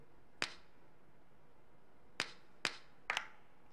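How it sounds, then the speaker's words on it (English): Clap samples in a song played in Ableton Live, four sharp, bright claps spaced apart, the last two close together as a quick double hit, alone against a quiet background. "Next thing here is some more claps in the song."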